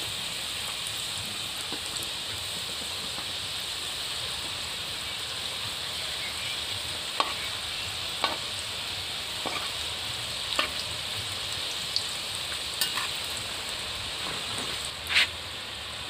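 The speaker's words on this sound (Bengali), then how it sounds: "দেখুন প্রথম ব্যাচ ভাজা হয়ে গেছে" Potato pieces frying in a batch of hot oil in a village-style kitchen, a continuous soft bubbling sizzle with occasional sharper crackles and pops, no talk.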